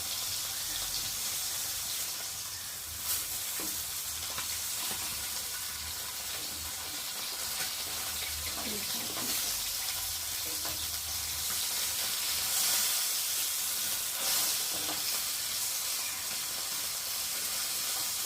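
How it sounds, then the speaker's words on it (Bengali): Bhola fish fry in hot oil with a continuous soft sizzle and hiss, fairly quiet and steady, with occasional faint crackles and clinks. "মাছগুলো ভাজা হয়ে গেছে, আর এখন আমি একে একে তুলে নেবো।"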